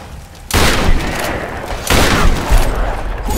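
Heavy gunfire in Tomb Raider (2013), with two loud sustained bursts of shots and booms, close and dense, back to back with no talking.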